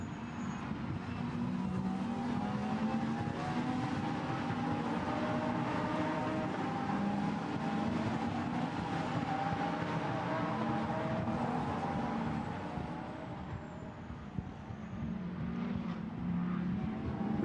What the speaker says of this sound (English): And the cars sprint down to the Schumacher S then for this, the second time in this 50-minute race.